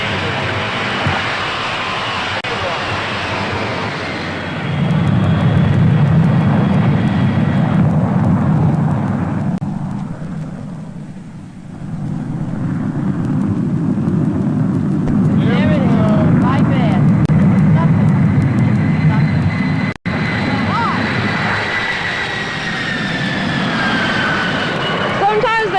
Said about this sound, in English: You're cleared in position and you're cleared to take off on runway 29 left.